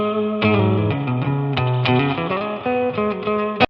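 A Boss spring reverb pedal colors a short guitar phrase of chords and single notes. It is loud and close, with a splashy, drippy spring tail, and the phrase cuts off abruptly near the end.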